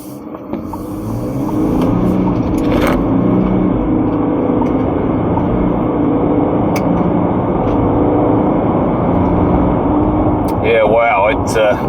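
A 2023 VW Amarok V6 Style pickup launches from a standstill in a 0 to 100 run, its engine roaring steadily and loudly under the cabin noise as it accelerates hard, with talk inside the vehicle.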